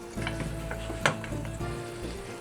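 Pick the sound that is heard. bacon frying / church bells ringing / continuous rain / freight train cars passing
bacon frying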